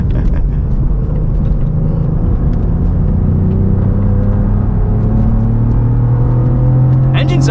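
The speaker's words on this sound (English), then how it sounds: "Engine sounds good too." A 2024 Cadillac CT4-V Blackwing V6 engine drones loudly and climbs steadily in pitch as it accelerates on a track, a continuous close-up rumble with voices mixed in.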